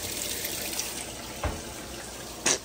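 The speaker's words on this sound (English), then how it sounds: "but it fills all the way up during rinse" Roper top-load direct drive washing machine filling with water during the rinse, a steady rushing pour that runs throughout, broken by a couple of brief thumps and splashes.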